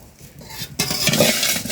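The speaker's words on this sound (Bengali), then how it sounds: "রসুন তেল লবঙ্গ হিং একসঙ্গে ভাজা পড়বে" Garlic, cloves and asafoetida hit hot mahua oil in a pan for a rohu fish dish: quiet clinks, then a sudden loud sizzle with scraping stirs up close.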